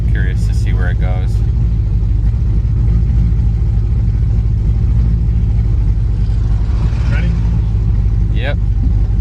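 A 500-horsepower Pontiac GTO V8 sends out a loud, steady, deep engine rumble during a launch test, with people talking over it near the start and again near the end.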